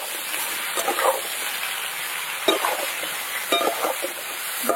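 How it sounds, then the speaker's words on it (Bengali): Potatoes and eggplant frying in a pan with black cumin seeds, salt and turmeric, a steady close sizzle with occasional stirring scrapes and clatters. "আলু বেগুনটা ভালো করে একটু ভেজে নিতে হবে।"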